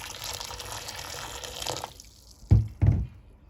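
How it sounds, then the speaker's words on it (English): Water trickles and gurgles down a sink drain treated with vinegar, a soft running flow that stops, followed by two louder gulping glugs close by. "it seems to be draining a little bit faster than it was before"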